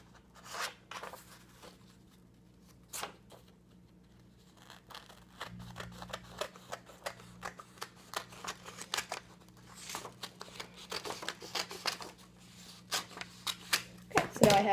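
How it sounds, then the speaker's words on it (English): Scissors snip through a length of black material being cut out for a prop, giving a run of short crisp cuts and soft handling rustles that build toward the end, close and quiet. "I'm going to cut it out just along there"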